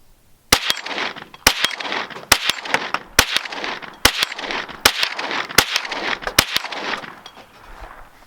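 A Kriss Vector Gen 2 9mm carbine firing a string of about ten sharp, loud shots at a small 6-inch steel plate outdoors, each crack followed by a ringing metallic tail, spaced roughly a second apart or less.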